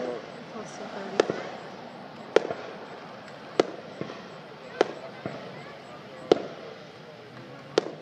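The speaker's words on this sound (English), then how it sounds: "Came to see fireworks." Fourth of July fireworks in Hazard, Kentucky, a series of evenly spaced sharp booms about every second, heard from a distance while people chat nearby.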